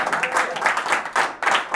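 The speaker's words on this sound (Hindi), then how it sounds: "सब तालियां बजा रहे हैं" An audience claps at a Hindi poetry performance in short uneven bursts of scattered hand claps that rise and fall. The clapping is close and moderately loud, with brief gaps between bursts.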